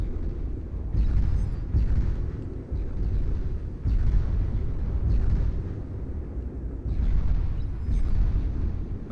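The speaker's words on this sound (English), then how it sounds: "Torpedo launchers firing away here." Torpedo launchers fire in the real-time strategy game Beyond All Reason during an 8v8 naval deathmatch, producing repeated deep, rumbling booms and swelling low-frequency blasts that roll on steadily without speech.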